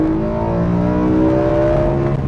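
A BMW M car with an Eventuri carbon intake, set to its sportiest mode, revs steadily and close by, the engine note climbing gradually in a smooth continuous drone with no talking.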